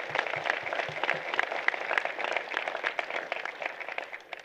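An audience at a convocation ceremony claps steadily, a moderate crowd with individual claps audible, continuous and fairly even throughout.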